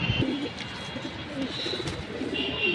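A deep blue Jabra punky pigeon coos in low, throaty repeated calls, fairly close, over a steady background hiss with faint higher bird chirps.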